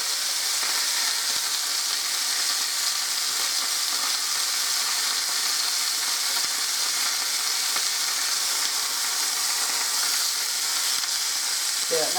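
Meat searing in a hot pan for a Valentine's Day dinner, a steady, even sizzle holding at a constant level throughout with only faint clicks and no break.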